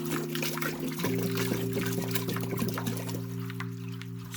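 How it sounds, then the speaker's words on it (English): A gallon of distilled water pours into a cooking pot for pineapple peel tea, a steady close trickling splash that runs for several seconds with a faint hum underneath. "inside our pot, we're going to do 1 gallon of distilled water"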